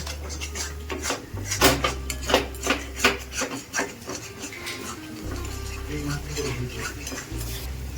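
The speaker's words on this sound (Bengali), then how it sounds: "আবারও দইয়ের সাথে মশলাটাকে একটু কষিয়ে নেব" Spoon scraping and stirring spice paste with yogurt in a pan for fish korma, giving repeated close metallic rubs and clinks with a low hum between, steady and moderately loud.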